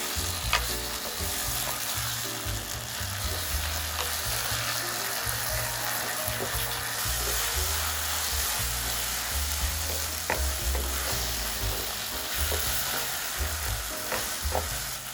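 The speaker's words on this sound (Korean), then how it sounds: "달궈졌으면 김치 넣어주고요. 이대로 그냥 오래 볶아주면 돼요." Kimchi stir-frying in a hot pan for an old-style lunch box, a dense constant sizzle with frequent scraping stirs and small spatula taps, loud and close without talk.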